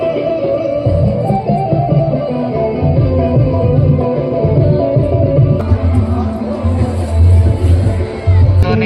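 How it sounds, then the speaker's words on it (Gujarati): A crowd at the Kinnar Akhada during the 2025 Mahashivratri fair in Junagadh makes a loud, continuous hubbub of many voices close by, rising slightly toward the end, with people talking nearby. "ભીડ થોડીક ઓછી છે, તો શિવરાત્રીમાં બહુ ભીડ થાય"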